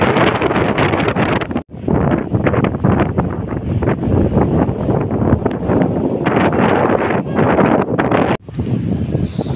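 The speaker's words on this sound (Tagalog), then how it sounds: "Sobrang lakas ng hangin." Strong gusty wind roars and buffets the microphone almost continuously on a shore at low tide, with only brief lulls.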